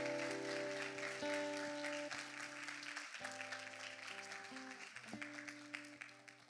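Church youth congregation applauding in a steady wash of clapping, with sustained organ or keyboard chords held underneath throughout.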